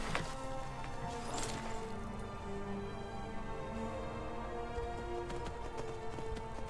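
Horse hooves in the Skyrim video game, a steady clip-clop of gallop beats running through a dense layer of game music and ambience, fairly loud and continuous with no talk.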